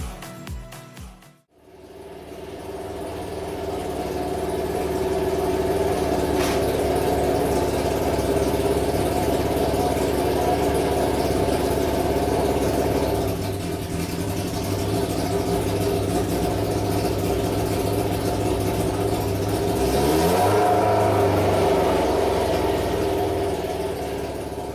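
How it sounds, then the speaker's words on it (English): A prototype Rocket League Octane car's engine cranks briefly, catches and settles into a steady, loud idle, then rises in a rev around the twentieth second before easing back. "we could actually tension it, fire up the engine,"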